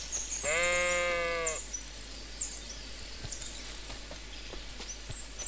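A single sheep bleats loudly and close by for about a second in Kingdom Come Deliverance II, followed by quiet outdoor ambience with crickets and faint scattered clicks.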